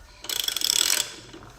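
Ratcheting tightening of a gear puller on a Jaguar S-Type differential: a rapid run of metallic clicks lasting about three-quarters of a second, close and fairly loud, followed by quiet.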